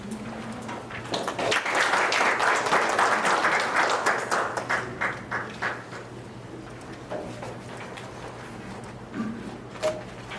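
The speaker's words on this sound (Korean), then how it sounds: "한림대학교 경제학과 이충원 교수님을 박수로 맞아주시기 바랍니다" An audience at a Bank of Korea seminar on Gangwon's economy applauds to welcome an economics professor to the podium, a full burst of clapping that swells and then thins out to a few scattered claps, heard from within the hall.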